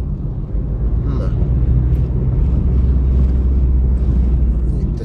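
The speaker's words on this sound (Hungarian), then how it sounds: "szeles az idő, tombol a szél." Strong wind in California roars steadily into the microphone with heavy low rumble throughout, a continuous buffeting noise with no pauses.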